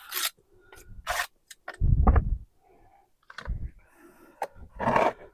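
Soil pressed down with a mini soil blocker and scraped off: a series of short, close scraping and pushing sounds with soft thuds in between, irregular in rhythm and fairly quiet, with no talk.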